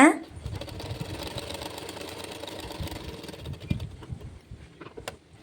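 A sewing machine runs steadily and quietly, stitching a folded blouse hem with a continuous low mechanical whir and faint rapid ticking that eases off near the end.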